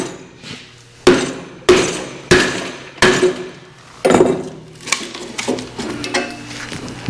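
A piece of ash firewood is split for a bundle: several sharp, loud impacts land at irregular intervals, followed by clattering, knocking sounds of wood pieces.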